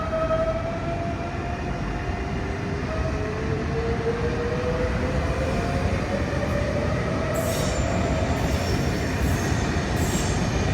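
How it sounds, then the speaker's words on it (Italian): A Trenitalia Intercity train pulls into a station platform in Padova, a steady loud rumble of wheels and carriages with rising and falling tonal whine and brief high squeals near the end, no talk. "Il treno intercity 584 di Trenitalia, proveniente da Sesto Carrara e diretto a Roma Termini, delle ore 11:50, è in arrivo al binario 1"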